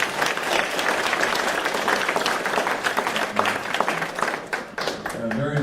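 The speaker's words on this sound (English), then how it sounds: "let's give Graham Davis a big round of applause" Audience applause after a talk at a marketing meetup, a sustained wash of clapping hands from a sizable crowd, fairly loud and even for several seconds with a slight dip near the end.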